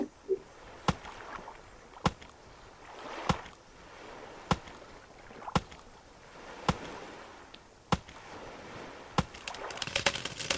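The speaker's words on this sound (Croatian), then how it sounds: "Da rušimo drva." Sharp, evenly spaced chopping strikes, about eight in ten seconds, ring out as trees are cut down in the survival video game Stranded Deep, each crisp hit standing alone over a quiet background.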